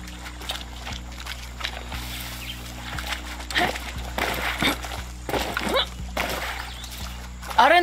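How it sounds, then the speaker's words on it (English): In the game Far Cry 6, feet splash and slosh through river water in uneven steps beneath a low electronic hum, with voices talking in between. "Aren't we making a lot of noise by walking in the river?"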